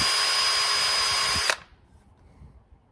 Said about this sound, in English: take a drill, barely grab the end of it, take a Scotch-Brite, put on there